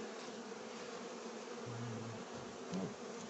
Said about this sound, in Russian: но пчелы, понятно, что сейчас кормят расплод, готовятся к зиме